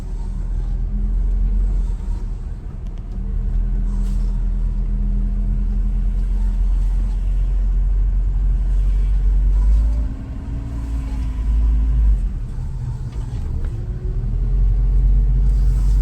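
A 1987 Toyota one-ton pickup with fuel injection cruises along the road, its engine giving a steady, loud low rumble with slight dips and swells as it drives, heard from inside the cab with no talking.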